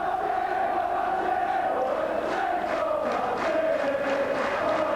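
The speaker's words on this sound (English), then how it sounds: "great jubilation here at Nosey Road, the crowd anticipating the crowning of the champions-elect St Helens" Rugby league crowd at Knowsley Road, St Helens, in 1996, cheering and roaring steadily throughout, a broad sustained wash of many voices with occasional rising shouts, loud and continuous.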